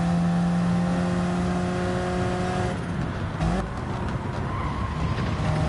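A Ferrari racing car in a driving video game, its engine holding a steady droning tone before the tires skid and squeal, the engine note dropping and shifting, loud and close with no voices.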